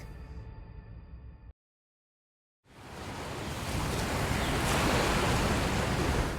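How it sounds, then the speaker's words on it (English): Waves lap and wash onto a beach shore as a steady, rushing surf that swells louder and holds, coming in after a short burst of tonal music and a moment of silence. "Where the water laps the shore, beachgoers catch some waves galore"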